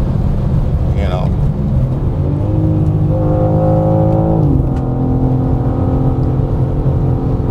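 A 2025 BMW M4 CS accelerating hard on a race track, its loud engine note climbing then settling into a steady high drone, heard from inside the car under continuous talk.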